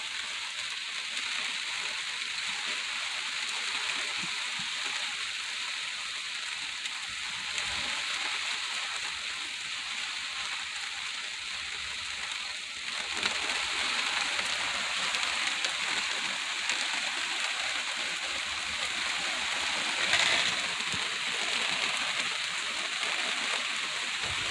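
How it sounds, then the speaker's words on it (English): Rain falling on a garden during a storm, a faint, steady hiss of drops that swells slightly midway and holds on to the end with no talk. "See, it's raining."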